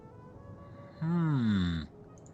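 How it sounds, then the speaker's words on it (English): A cat gives one drawn-out meow that slides downward in pitch, lasting under a second, moderately loud against quiet background hiss, with no talking. "I'm hearing meowing"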